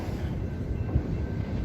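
A line of railroad cars rolls along the rails at Keokuk Junction, making a continuous dense rumble and clatter close at hand.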